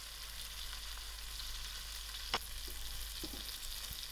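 Mustard seed and mixed masala with hurdee frying in hot oil in a pot, a steady low sizzle with a faint stir and a brief clink, close and alone.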